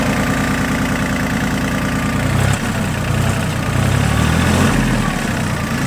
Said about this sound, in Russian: Давайте даже немножко погазуем.